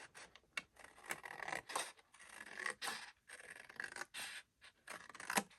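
Scissors snipping through paper to cut out a craft pocket, a quiet, close series of short crisp cuts and rustles separated by brief pauses.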